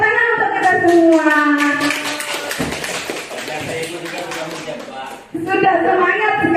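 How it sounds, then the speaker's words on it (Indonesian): A group claps in a school classroom session, with rhythmic, tapping claps sounding between stretches of voices, one of them childlike, and the clapping partly under the talk. "Tepuk tangan untuk kita semua."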